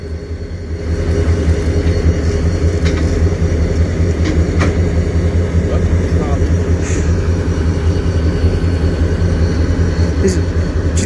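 A Union Pacific train passes at Slover Ave in Colton, California, as a steady, loud low rumble with rolling wheel and engine drone that stays close throughout; people talk over it.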